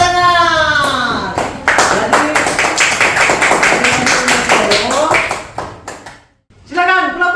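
Children in an elementary school classroom clap in a quick rhythmic burst, sharp close taps running for several seconds before fading into voices.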